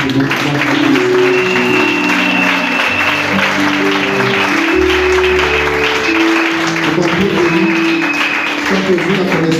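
Congregation applauding during a church gathering, sustained dense clapping over loud sustained music tones and voices throughout.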